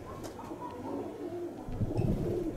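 Pigeons coo softly in low repeated calls at Kozani, Greece, with light outdoor background noise and no one talking.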